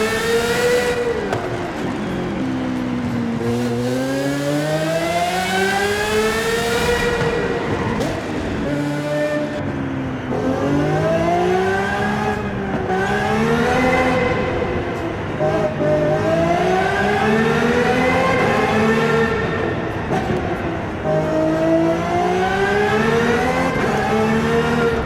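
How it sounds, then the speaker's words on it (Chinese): A 2022 Aston Martin Valkyrie AMR Pro, a rear-wheel-drive 1000-horsepower hypercar in Forza Horizon 5, accelerates hard, its engine note rising and dropping through repeated gear shifts, loud and continuous with no voices. "看到前段加速是非常不错的"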